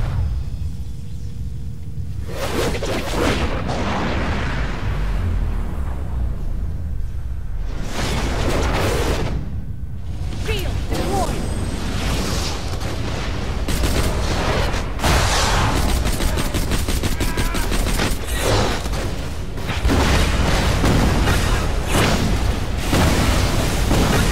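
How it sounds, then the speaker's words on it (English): Rocket launcher explosions and gunfire boom almost without pause in Borderlands The Pre-Sequel during the Colonel Zarpedon boss fight. Dense, loud bursts and whooshes pile over one another, keeping the battle noise constant. "finish her off with the rocket launcher"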